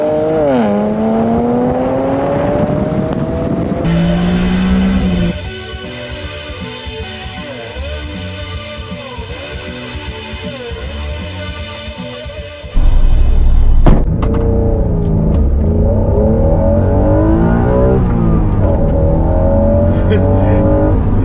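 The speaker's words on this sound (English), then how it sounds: "It's a 3-liter V6, downshift, and it just picks up and goes." A 3-liter V6 car engine pulls hard at wide open throttle, revs climbing in repeated rising sweeps, dropping after a downshift and then surging louder again, close and dominant.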